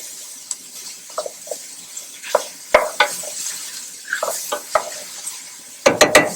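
Vegetables for minestrone soup sautéing in a pot, with scattered clinks and scrapes of a utensil against the pot over a faint sizzle, and a cluster of sharper knocks near the end.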